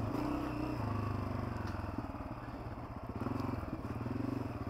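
A Honda CRF250F dirt bike rides single track on a trail loop, its engine buzzing steadily and close with a fast pulsing throb and small rises in revs.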